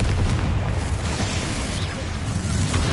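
A Confringo fire spell blast in the video game Hogwarts Legacy, a loud, dense, rumbling explosion filling the whole moment with heavy low boom and crackling roar.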